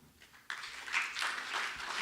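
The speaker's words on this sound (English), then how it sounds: "I want to hear a really, really disappointed applaud." Applause from an audience at a game development contest finals after a brief quiet moment, steady clapping that swells a little then carries on at moderate volume.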